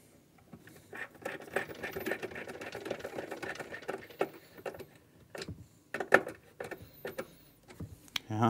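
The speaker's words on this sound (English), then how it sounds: "Again, using the 15mm screws provided, screw this into position." A power screwdriver drives 15mm screws to fix a plate to a spacer on a Cooke & Lewis 600 bridging unit's door frame: close, uneven whirring bursts with brief pauses and small clicks, no talking.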